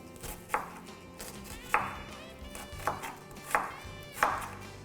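Onions chopped on a board for Tunisian chakchouka, with five or six sharp, close knife strikes at a slow, irregular rhythm over a quiet background.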